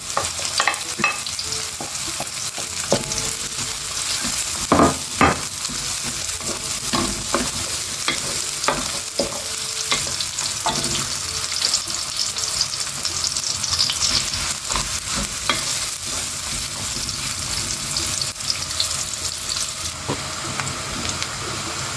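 Onions and garlic sizzle loudly and steadily in a hot pan for a mee goreng dish, broken up by repeated scraping stirs of a utensil and no voices.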